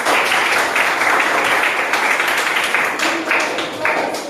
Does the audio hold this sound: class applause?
yes